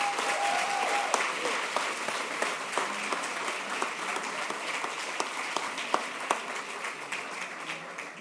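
An audience at a business school eloquence contest semi-final applauds the finalist orators with sustained, even clapping that carries on steadily and fades a little near the close.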